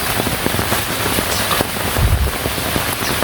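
Heavy rain pours during a storm in a village, a dense steady hiss of drops on surfaces with scattered sharper splats, close and loud, with no voices.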